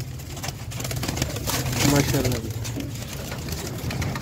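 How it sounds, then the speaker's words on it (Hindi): Pigeons from a flock of fancy pigeons kept for sale give a low, soft coo near the middle, mixed with a man's speech and faint background noise. "देखो कबूतर"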